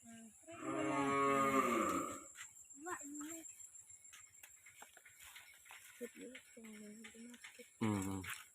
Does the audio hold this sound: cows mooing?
yes